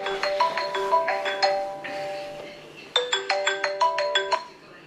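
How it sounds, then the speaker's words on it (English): A phone ringtone for an incoming call chimes indoors as a bright melodic electronic pattern of quick repeated tones, playing through twice with a brief gap between the phrases, loud and close, with no talking over it. "Oh, I'm getting a phone call."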